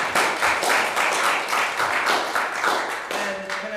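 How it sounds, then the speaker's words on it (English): An audience at a local election hustings gives the candidate panel a round of applause, a steady, moderately loud patter of many hands clapping throughout, with a brief voice near the end. "Can we give them a wee round of applause?"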